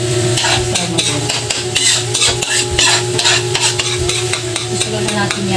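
Garlic sizzles loudly in melted butter as seafood cooking gets underway, a dense steady crackle of frying with repeated stirring scrapes against the pan throughout, and no talking.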